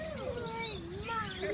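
A bird being hand-fed at Sea Life Park gives faint, wavering chirping calls, with people's voices close by.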